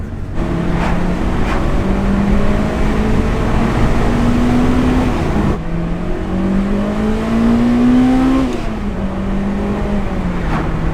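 Honda Integra Type R DC5 on a test drive, heard from inside with the engine revving up through two gears, pitch climbing then dropping at each shift, loud and steady with no talk.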